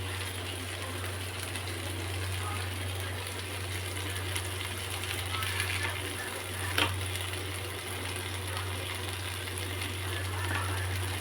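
Fish fries on a flat tawa in a steady, faint sizzle over a low hum, with no talking.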